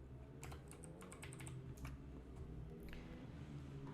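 Keys clatter on a computer keyboard in quick irregular bursts of clicks and taps, fairly close, over a steady low background hum.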